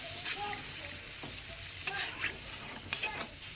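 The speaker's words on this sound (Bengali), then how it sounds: "এবার ঝোলের জলটা দিয়ে দেবো জলটা দেওয়া হলো" Water poured into chicken curry in a hot pan sets off a steady, soft sizzle with a few brief stirring scrapes and clinks, fairly quiet and without talk.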